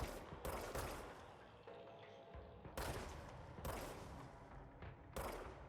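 Gunfire in the video game Control comes in loud, rapid bursts of dense crackling shots separated by brief pauses, close and forceful, with no talking.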